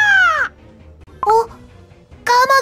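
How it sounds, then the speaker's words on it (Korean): Crows in Cookie Run Kingdom let out three harsh, loud caws close by, each short and separated by brief pauses of near silence. "까마귀다."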